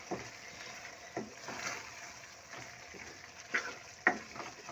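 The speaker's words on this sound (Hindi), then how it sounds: "अच्छी तरह से मिक्स" Minced meat with green chillies is stirred in a pan, a soft low sizzle under irregular scraping strokes and a couple of sharper taps, close but fairly quiet with no talking.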